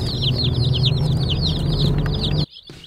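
A flock of young meat chickens on a farm cheeps and clucks busily, dozens of overlapping high calls in a steady chorus that runs loud and close for over two seconds before stopping suddenly.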